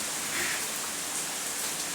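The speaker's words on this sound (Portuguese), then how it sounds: "Começou a chover forte, gente." Heavy rain falls steadily in a broad, continuous hiss with no pauses, loud and close throughout, and nobody speaks.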